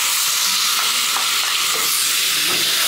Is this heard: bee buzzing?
no